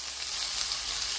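Chicken breast frying in a pan with butter, salt, pepper and a little water, giving a steady, close, continuous sizzle with no talk over it.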